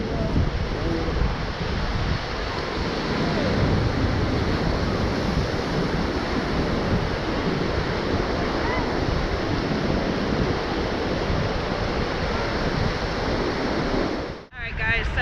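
Ocean surf rolls in steadily at New Smyrna Beach, Florida, a loud continuous wash of breaking waves with wind buffeting the microphone, ending abruptly at the close.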